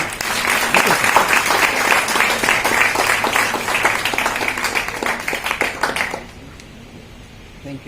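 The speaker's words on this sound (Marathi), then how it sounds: "टाळ्या वाजवू ना." Loud, dense applause from a large audience at a public meeting of a superstition-eradication committee, a continuous patter of many hands for about six seconds before it abruptly drops away to quiet room tone.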